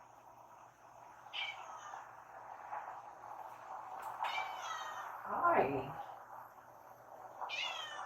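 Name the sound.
cat meowing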